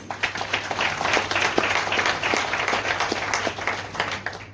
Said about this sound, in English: Please can we have a huge round of applause for our MC of this evening, Ms. Catherine Constantinides.